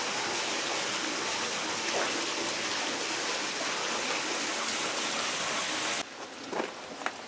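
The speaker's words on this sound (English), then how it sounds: "There's always melting water dripping down" Meltwater dripping and trickling inside an ice tunnel of the Russell/Jefferson Park glaciers, a dense steady hiss of running water close by that drops abruptly near the end, leaving fainter scattered drips.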